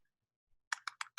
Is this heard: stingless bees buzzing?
no